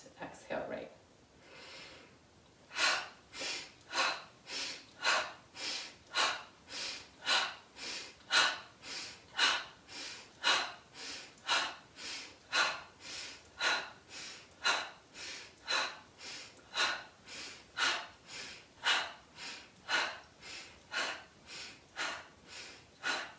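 Alternate-nostril yoga breathing during a winter yoga session, about two dozen sharp, even nasal breaths in a steady rhythm, close and clear after a quiet start, with no talking.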